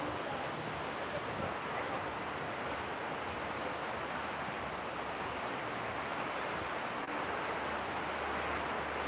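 A waterfall in Las Vegas roars as a steady, loud broadband rush of falling water, unbroken for several seconds and heard from nearby.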